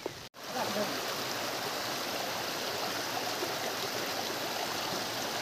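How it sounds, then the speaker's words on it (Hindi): A natural mountain stream near a rural homestay, flowing over stones with a steady, close rushing and trickling wash, continuous and fairly loud after a brief knock at the start. "और ये हमारा है प्राकृतिक पानी,"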